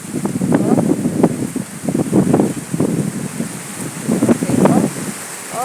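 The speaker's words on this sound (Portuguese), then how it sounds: "Ó, ó o vento, ó o vento. Ó a poeira." Strong wind gusts blow dust and rustle leaves of a tropical almond tree, coming as loud, uneven bursts of rough noise, close to the microphone, with no talk.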